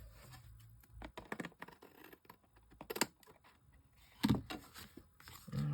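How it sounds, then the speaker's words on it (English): Excess paper trimmed off a handmade snowman greeting card, heard as close, irregular snips and scraping bursts separated by short pauses, with no one speaking. "Just cut the excess off."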